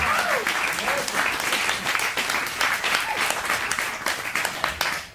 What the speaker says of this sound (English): Can I get a round of applause for the lineup?